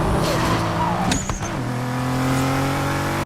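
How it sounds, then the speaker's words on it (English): A Toyota Supra engine revs hard with a sharp burst and a brief whine, then drops back into a steady, droning idle. "I can't quite place the sound of Slapjack's Supra"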